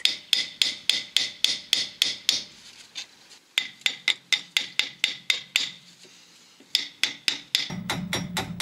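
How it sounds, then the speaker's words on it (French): A hammer taps a car's rear brake drum to free it, in rapid runs of sharp metallic knocks broken by short pauses, loud and close, with a scraping rasp at the end. "Si le tambour ne vient pas, tapez au marteau et faites levier avec un tournevis."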